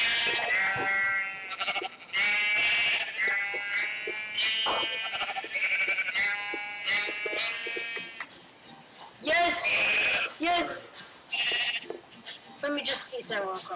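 Sheep in the Minecraft video game bleat again and again in wavering, nasal calls, with a person talking over and between them.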